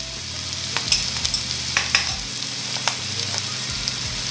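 Garlic and ginger frying in a dash of oil in a pan, with a steady close sizzle broken by a few light clicks and scrapes of stirring throughout.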